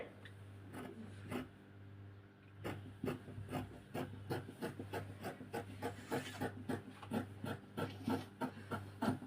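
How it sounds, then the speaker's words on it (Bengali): Fabric being cut for the round front and back neckline of a maxi dress, a close, steady series of rasping snips and drags in an uneven rhythm over about nine seconds, with no talking. "প্রথমে আমি গলাটা কাটিং করে নিচ্ছি"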